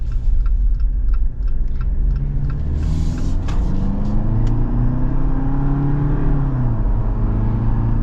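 An AEV Jeep Wrangler JL370 4xe plug-in hybrid on 37-inch tires drives with a steady, loud low road and engine drone. A soft ticking runs through the start and the pitch swells slightly near the end.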